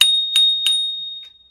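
The handlebar bell on a GOTRAX XR Elite electric scooter rung three times in quick succession, bright close metallic pings, followed by a faint fourth tap, with no voices.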